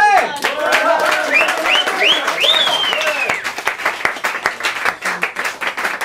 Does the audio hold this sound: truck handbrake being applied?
no